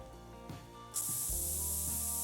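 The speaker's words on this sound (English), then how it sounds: "I'm gonna put some spray on here." An aerosol spray can hisses in a steady, close burst lasting over a second, applied outdoors while hunting elk at a feeder, following some soft rustling and handling sounds.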